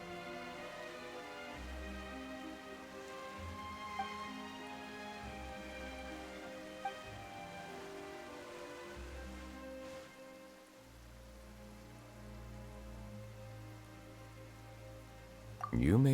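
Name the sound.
rain falling, from a video game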